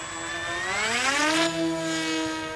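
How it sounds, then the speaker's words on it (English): A small unmanned aerial vehicle drone flies near Aberystwyth, giving off a steady high-pitched whine whose pitch climbs and then levels off, clear and fairly close throughout. "This unmanned aerial vehicle, or drone as it's more commonly known"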